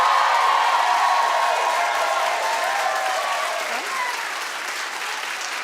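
A studio audience on a television talk show claps and cheers steadily, a dense, loud wash of applause that slowly tapers toward the end.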